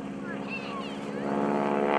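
Aerobatic airplane engine droning through a 16-point hesitation roll at a lakeside airshow, a steady propeller hum at moderate distance that swells slightly toward the end, with no talk over it.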